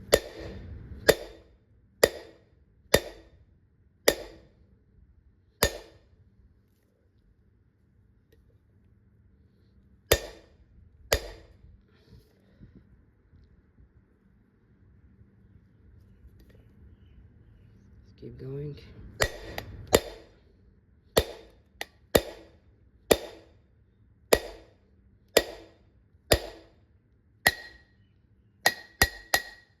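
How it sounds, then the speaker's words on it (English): A seal driver struck with a hammer to drive a front wheel bearing race into a Toyota Land Cruiser 100 Series hub, sharp metallic blows in uneven bursts with a long pause midway, close and loud, with a brief spoken remark. "now you can actually use the seal driver like so. Alright, let's drive it in."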